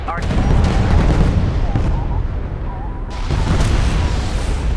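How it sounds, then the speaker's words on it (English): Detonation charges explode on a wreck in the strategy game Homeworld: Deserts of Kharak, with deep, rumbling blasts rolling in two heavy surges, loud and sustained, with voices talking over them. "Pull back to a safe distance and initiate detonation."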